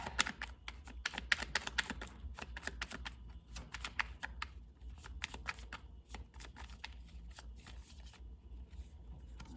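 Tarot cards being shuffled by hand, with a steady run of close, crisp riffling and flicking bursts that keep going throughout, quiet overall and with no talking over them.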